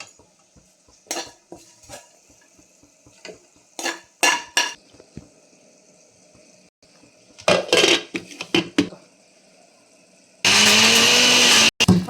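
A mixer grinder gives a single loud pulse near the end while making ridge gourd chutney, after some clinking of utensils and stirring in the kitchen, with no talk.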